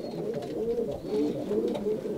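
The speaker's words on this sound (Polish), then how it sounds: "Oprócz tego gołąb ten wydaje taki charakterystyczny dźwięk zwany turkotaniem." An ornamental pigeon of the Carrier breed, kept by a Polish fancier, gives its characteristic rolling, purring coo in repeated low phrases close by, with no talking.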